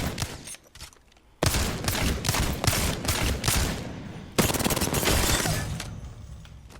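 An R-99 submachine gun in Apex Legends fires rapid automatic bursts at target dummies, with a short first burst, then two long, loud, continuous strings of fire.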